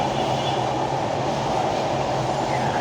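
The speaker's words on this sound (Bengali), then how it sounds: "রাজশাহীগামী মধুমতি ট্রেনটি চলে গেল।" The Madhumati train bound for Rajshahi passes Mawa railway station near the Padma Bridge, a loud continuous rumble of rolling cars with a steady low drone throughout.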